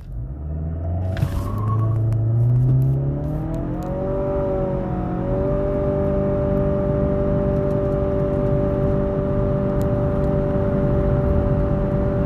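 A 2020 Nissan Altima VC Turbo pulls hard from a standstill toward 100 mph, its engine note climbing, briefly dropping at a shift, then settling into a long, loud, sustained drone with steady road rumble beneath.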